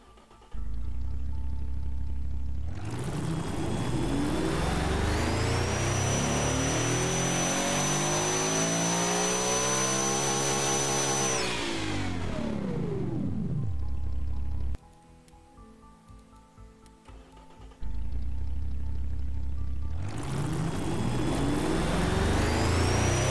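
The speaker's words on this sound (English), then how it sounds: "A freaking 20 liter V16 revving all the way out to 8000" A huge 20-liter V16 engine on a video game dyno revs up hard and loud, climbs to a high scream near 8000 rpm, then drops away. A lull of low idle follows before it roars again.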